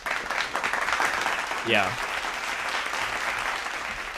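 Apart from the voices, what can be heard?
applause sound effect played from a button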